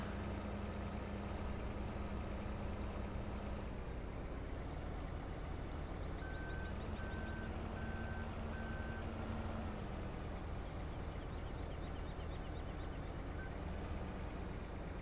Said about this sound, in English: So once the tractor gets going